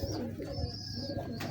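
Ferozpuri pigeons cooing nearby, soft repeated low coos over a busy loft background with faint chirps.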